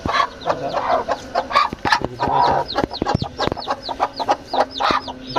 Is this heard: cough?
no